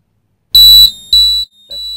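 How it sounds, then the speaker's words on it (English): A fire alarm on a ship's engine and alarm panel sounds during a test in two loud, piercing electronic bursts, followed by a third, quieter tone. "That's the fire alarm."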